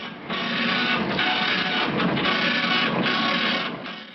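A telex machine, the typewriter-printer hybrid that sends messages over a telephone line, printing onto paper tape: steady loud mechanical clattering and rattling throughout, with brief dips in the chatter.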